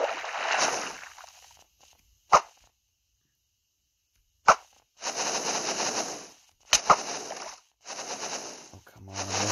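Video game gunfire comes in separate bursts: sharp single shots and longer rattling volleys, loud and close, with short silent gaps between them.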